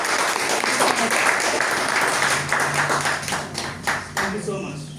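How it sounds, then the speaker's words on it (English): A Toastmasters club audience gives sustained applause, with dense, steady clapping close by and a few voices murmuring underneath as it tapers off. "Please give a big round of applause."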